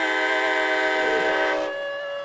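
A loud, sustained air horn blasts after a touchdown at a high school football game between Lufkin and Longview, a steady multi-tone chord holding for about two seconds before dropping slightly in level.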